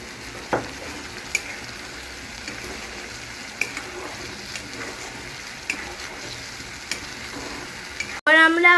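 Potato 65 pieces being stirred into a tomato and soy sauce gravy, giving a steady soft sizzle with periodic scraping clicks of the spoon, alone with no talk.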